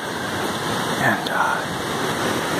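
A creek rushes through a snowy forest along a hiking trail, a loud, steady wash of flowing water that fills the scene with no break.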